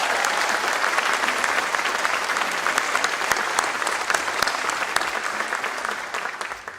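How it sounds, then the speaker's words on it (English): An audience at a Veterans Day event applauds a band, a dense, loud wash of clapping that holds steady and begins to fade toward the end. "Let's give them a round of applause."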